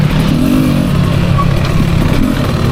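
2024 Beta 300 RR Race Edition dirt bike held in third gear while the clutch is fanned, its two-stroke engine droning loud and close with small rises and dips in revs.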